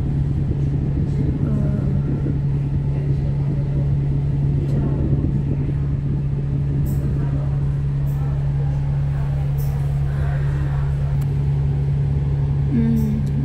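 Cars idle and creep in a Mongkok, Hong Kong traffic jam, a steady engine rumble with a constant low hum, heard from inside a vehicle with faint road noise.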